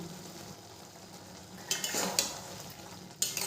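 Tomato chutney with tamarind pulp stirred in a pan over a medium flame, soft continuous sizzling broken by a few sharp scraping knocks of a spatula against the pan.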